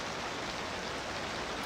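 Steady rain hisses evenly through a Cities Skylines 2 city scene, a faint, continuous wash of drops with no breaks.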